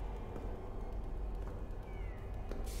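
A cat meows in the indie horror game We Are Saved, a faint mewing rising over a steady low rumble of background game ambience, with no talk.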